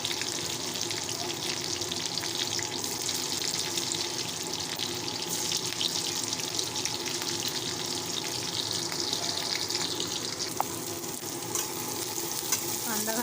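Chillies and garlic sauté in a hot pan, a loud continuous sizzle and crackle close by with occasional stirring scrapes, no voices over it.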